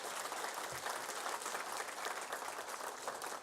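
Applause from a church congregation, dense, even clapping that holds steady at moderate volume for a few seconds without voices over it.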